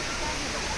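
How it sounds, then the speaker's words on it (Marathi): A waterfall pours as a dense, continuous broadband rush, loud and close, without a break across the brief moment. "हा मस्त धबधबा"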